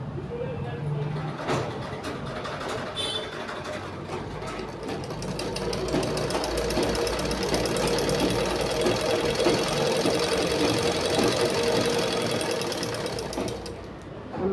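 A sewing machine stitches a blouse, running in a steady, fast mechanical rattle that grows louder and continuous partway through, with a voice talking over it.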